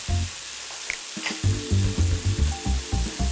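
A thin piece of marinated meat searing in a hot pan gives a steady sizzle with a few louder bursts of spitting and crackling, heard up close with no talking.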